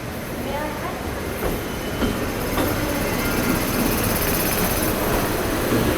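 Passenger train arriving at an Indian railway station platform, a loud continuous rumble and hiss of rolling wagons filling the scene, with faint clanks and a busy station ambience.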